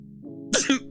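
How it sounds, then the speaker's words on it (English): A single sharp sneeze bursts out midway, a short explosive two-part expulsion of breath over a low steady background hum. "Excuse me, I think I'm about to sneeze."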